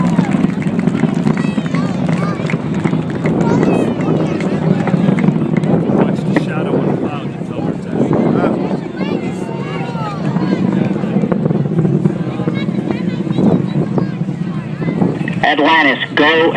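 Space Shuttle Atlantis on its final launch, STS-135, watched from the turning basin, sends a loud, steady broadband roar through the full clip as its three liquid-fuel main engines throttle, with a commentator talking over it throughout.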